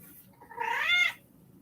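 A single indoor cat gives one short, rising meow, quiet and fairly close, against a faint background hum.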